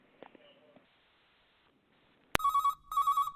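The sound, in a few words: telephone ringing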